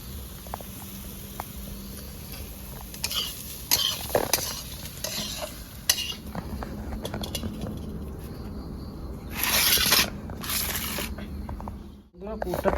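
A cauliflower stuffing with coriander leaves fries in a pan, with stirring scrapes, soft sizzling and clinks of utensils under steady talking, plus a few louder bursts of scraping.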